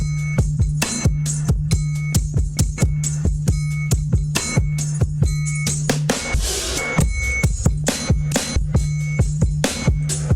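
Raw, unprocessed drum fill sample layer for a build-up, a dense run of rapid, punchy hits at a steady fast rhythm, loud and close, with a brief noisy swell in the middle.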